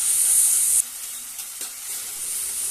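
Chicken gizzard with onion and tomato sautéing in oil, a loud hiss that drops sharply partway through, then a softer steady sizzle continuing.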